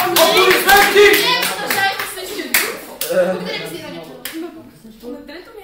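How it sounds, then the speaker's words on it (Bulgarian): A room full of people claps enthusiastically at a class awards ceremony, the applause loud and dense at first, then gradually thinning out, with voices and laughter mixed in. "Аплодисменти!"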